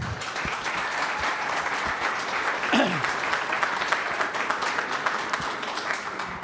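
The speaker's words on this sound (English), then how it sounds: "a round of applause for our students" A crowd applauds students at a science demo day in Ames, a sustained dense patter of many hands clapping in a large room, with a brief whoop partway through.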